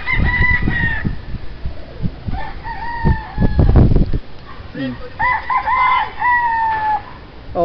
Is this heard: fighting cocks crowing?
yes